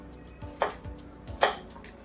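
A knife cuts tender bottle gourd into small pieces on a board, giving two quiet, close, distinct chopping knocks about a second apart.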